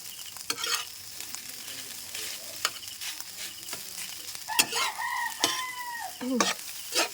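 Leftover rice is stirred and fried in a pan with a steady sizzle, punctuated by sharp scraping stirs, while a rooster crows nearby several times.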